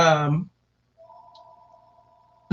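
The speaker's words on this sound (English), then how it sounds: "I forgot to turn my phone ringer off" A phone ringer sounds faintly as a thin, steady electronic tone, coming in after someone briefly speaks and continuing quietly alone.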